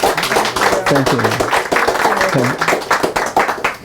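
A small audience at a talk gives a soft, brief round of golf-clap applause, with light scattered hand claps mixed under a speaking voice.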